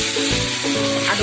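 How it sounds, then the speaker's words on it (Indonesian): Spices dropped into hot oil burst into a loud, steady sizzle and crackle, close up, with a faint metallic scrape of stirring; no voices. "minyak panasnya udah siap, tinggal kita masukin bumbunya guys"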